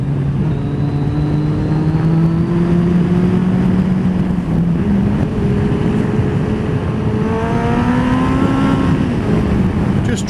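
Car engine pulling hard out of corners on a snowy road, with steadily rising revs and gear-held tones sweeping upward, loud and close from inside the car, and little or no talking.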